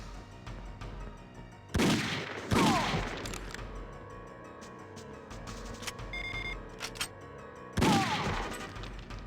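Gunfire from the Nintendo 64 shooter 007: The World Is Not Enough, with three loud blasts standing out over a low game soundscape and a few fainter shots and electronic beeps between them.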